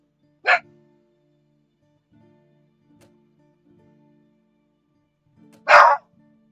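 Two short dog barks from a game's blacksmith shop, one at the start and a louder one near the end, separated by quiet low background hum.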